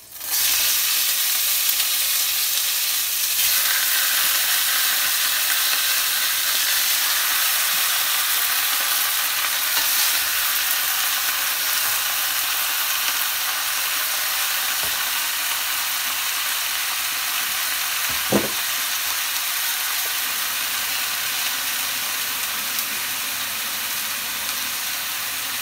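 Marinated goat meat for a kalderetang kambing stew sizzles in a pan with a dense, even hiss, and a single sharp metallic clank rings out near the end.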